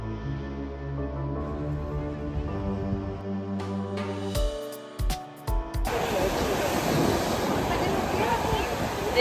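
Sea waves wash onto a flat, gently sloping shore behind a temple in Gujarat. A steady, broad roar of surf and wind fills the second half, after a stretch of other tonal sounds.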